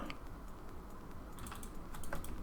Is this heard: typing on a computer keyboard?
yes